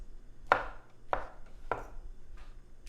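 A knife chops mushrooms into bite-sized pieces with four crisp, evenly spaced strikes on a cutting board, close and clear, the last one softer.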